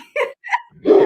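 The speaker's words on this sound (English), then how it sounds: "And that's our special guest, Luna Erwin, our dog." A pet dog gives two short, sharp barks and then a louder, rougher bark close by, quick and uneven in rhythm, with no talking over them.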